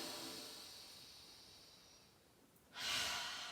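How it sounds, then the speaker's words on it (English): A long, soft breath drawn in and out during a hip mobility yoga flow, a steady airy hiss that fades, then a sharper, louder exhale near the end, close and with no talk. "Take a breath."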